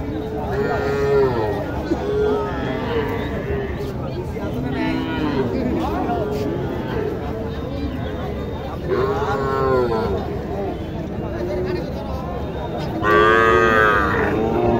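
Cattle lowing at a busy village livestock market in Naogaon, where bull calves are sold; several loud moos rise over a constant background of crowd chatter and people talking.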